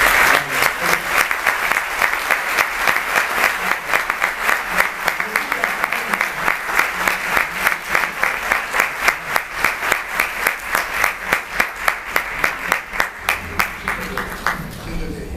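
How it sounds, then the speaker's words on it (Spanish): A concert audience in Veracruz claps in a steady, rhythmic unison beat that stays loud and even for about fifteen seconds, then trails off. "¿Quieren un aplauso ustedes también de la orquesta,"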